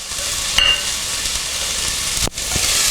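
Chopped onions hit hot avocado oil in a pan for Hungarian goulash, a steady bright sizzle and hiss with a brief clatter of them being stirred in.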